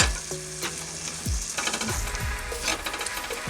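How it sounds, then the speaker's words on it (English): Onion and garlic sautéing in a pan, a steady close sizzle with scattered clinks and spatula scrapes of stirring, no talking. "I'm going to saute my onions and let it tender before I add my salmon."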